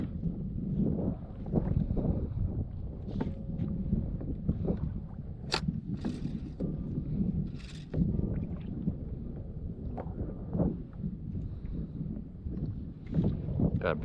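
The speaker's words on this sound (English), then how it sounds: "Wind's coming out of the northeast, it looks like." Wind gusts steadily across a kayak while bottom fishing off Montauk, a low continuous rumble with occasional light water sloshes and faint knocks against the hull.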